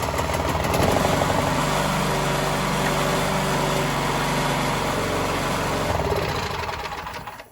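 A Craftsman 26-inch snow thrower engine cranks on its plugged-in electric starter and runs with a loud, steady mechanical drone, then winds down near the end.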